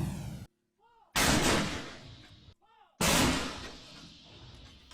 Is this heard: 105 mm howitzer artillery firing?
yes